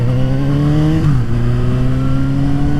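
A car engine drones loudly and steadily as it approaches, heard from a Suzuki GSX-S750 motorcycle, its pitch dipping briefly midway while the bike's own engine hums underneath.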